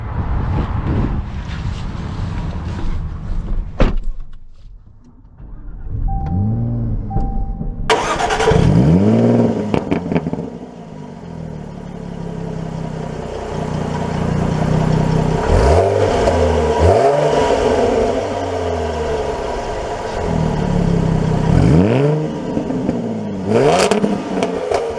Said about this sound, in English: let's take this out and drive it